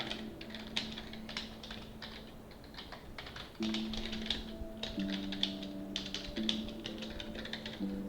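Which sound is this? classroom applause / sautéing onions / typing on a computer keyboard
typing on a computer keyboard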